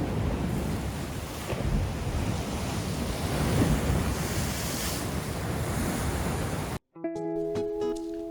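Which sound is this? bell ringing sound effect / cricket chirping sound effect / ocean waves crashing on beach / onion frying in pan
ocean waves crashing on beach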